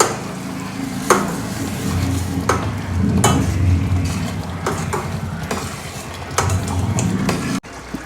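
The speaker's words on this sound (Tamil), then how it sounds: "இப்போ வந்து நல்லா கிளறி விட்டுக்கலாம்" A spoon stirs tomato garlic pickle with masala and jaggery in a hot pan. Loud scraping strokes land roughly once a second over a continuous sizzle, with no talking.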